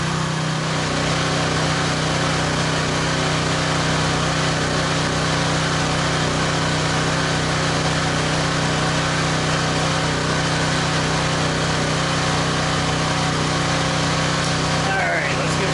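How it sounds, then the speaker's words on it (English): Pressure washer engine running steadily outdoors by an RV, a loud continuous small-engine drone with a constant hum throughout. "I'm also going to turn the pressure washer because the exhaust is coming inside."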